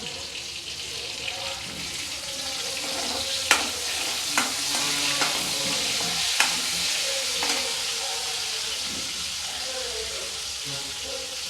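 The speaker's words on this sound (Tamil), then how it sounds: "வெங்காயத்தை நல்லா வதக்கணும்" Onions and curry leaves sautéing in a pan for a horse gram tamarind curry, a continuous close sizzle with a handful of sharp ladle taps against the pan scattered through it.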